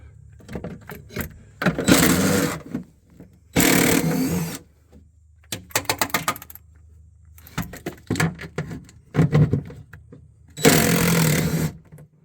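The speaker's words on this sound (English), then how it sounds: "I'm going to start with these 4 bolts on each side. I have my handy dandy DeWalt with a 7/16." DeWalt cordless drill with a 7/16 socket backing out rear bumper bolts on a New Edge Mustang, several short whirring bursts of varying length separated by quiet pauses, fairly close.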